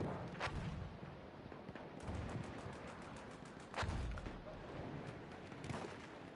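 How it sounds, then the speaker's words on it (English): Tank cannon fire during a video game team match, with several booming shots spaced a second or two apart over a low, rumbling battlefield background, fairly faint. "Looks like that tank is giving covering fire, shooting into the spawn of BSR5."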